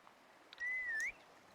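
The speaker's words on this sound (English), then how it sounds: "And Parfait will whistle" A Chao character in a Chao Garden video game gives a short, faint whistle, a single smooth tone of about half a second that wavers slightly at the end, heard alone over quiet background.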